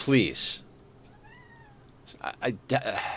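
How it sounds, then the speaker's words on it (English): A pet cat meows in a few short, close calls, with a person talking over and between them. "That is my cat."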